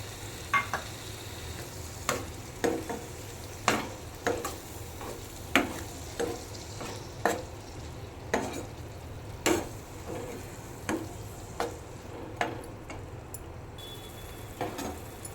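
Vegetables, including frozen peas, being tipped into a frying pan for palak paneer and stirred, with a soft steady sizzle under regular scraping strokes of a spoon roughly every second, close and clear.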